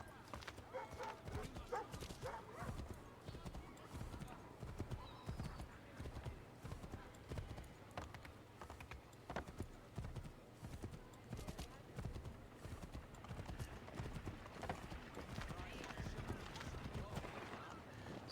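Rapid hoofbeats of a galloping horse in Assassin's Creed 3 Remastered clatter steadily throughout, mixed with game ambience and occasional voices over the top.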